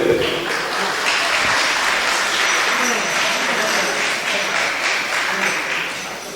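An audience at a Tamil association award ceremony applauds students, with dense, sustained clapping that stays loud and steady throughout and no break in the sound.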